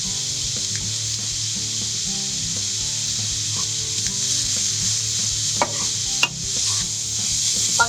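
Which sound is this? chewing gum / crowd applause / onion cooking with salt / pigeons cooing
onion cooking with salt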